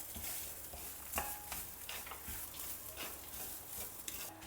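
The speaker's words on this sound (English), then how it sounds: "Roast that also along with the other spices and masalas" Fresh grated coconut roasting with chillies, spices and masalas in a pan for South Indian pitlai, a soft continuous sizzle with occasional scraping stirs, close and steady, no voices.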